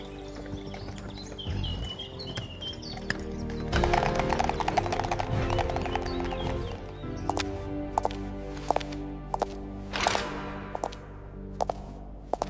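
Hooves of a horse pulling a carriage clip-clop in a steady walking rhythm, faint and a little distant, with birds chirping in the background.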